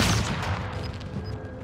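Rapid gunfire in a squad battle-royale match on the Caldera map, a dense burst of shots close by, loud at first and tapering slightly over under two seconds.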